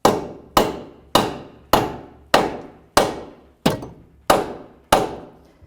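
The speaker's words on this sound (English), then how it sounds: "I'm going to try to hammer this up with a rubber mallet." A rubber mallet strikes about nine times at a steady pace, driving a CV axle into place on a 2005–2009 Subaru Outback. Each blow is a close, dull thump that dies away quickly.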